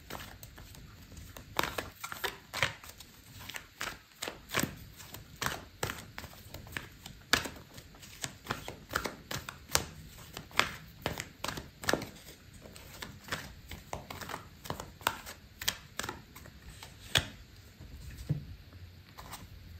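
Tarot cards riffled and tapped during a shuffle and draw, a steady run of quick crisp patters and soft slaps close by, with no talking.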